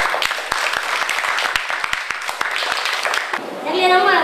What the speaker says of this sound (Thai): ปรบมือให้เป็นดังๆ